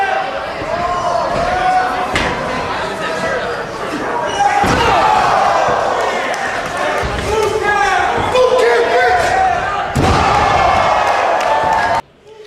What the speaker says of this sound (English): Cradle pile driver right on the steel chair.